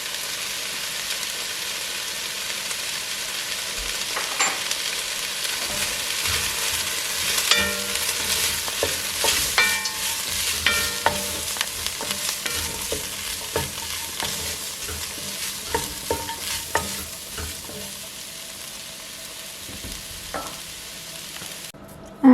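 Vegetables fry in a pan with chopped onions, ginger garlic paste, turmeric and masala powder, giving a continuous sizzle broken by frequent scraping stirs and clinks of a spoon.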